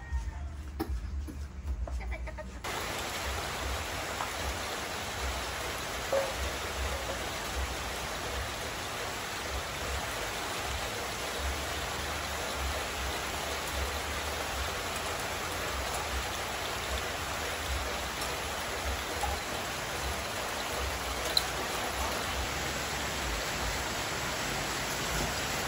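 Rain falls steadily outdoors in a continuous, even hiss that holds at a moderate level for the whole stretch, with no clear voices or other events.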